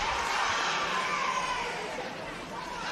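A crowd at a Hardcore Halloween wrestling show cheers and chatters for Seth in a steady, dense roar that holds level the whole time.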